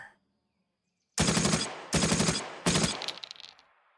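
Gunfire in a tabletop-style war video game: three loud bursts of rapid shots, each about half a second long, with a rattling tail fading after the last one, and no talking.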